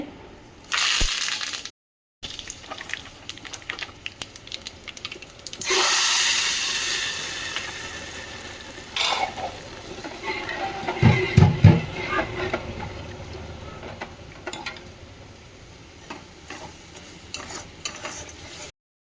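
Bottle gourd greens tipped into hot oil, giving a loud burst of sizzling hiss followed by stirring, scraping and wet rustling in the pan, with the frying fading and rising again over the stirring.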